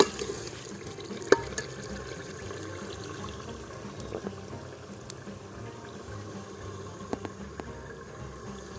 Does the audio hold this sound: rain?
no